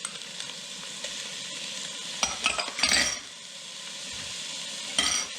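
Carrot and garlic sauté in a pan, a constant soft sizzle broken by louder bursts of spatula stirring and scraping partway through and again near the end, with no voices.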